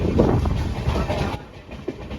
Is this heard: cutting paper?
no